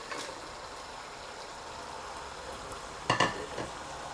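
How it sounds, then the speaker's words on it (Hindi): Cauliflower frying in a meat gravy, a steady soft sizzle and crackle throughout with a brief louder clatter of stirring or utensil contact near the end, no voices. "अब जो गोश्त की अपनी ग्रेवी है इसके अंदर हम गोभी को भूनेंगे 4 से 5 मिनट के लिए"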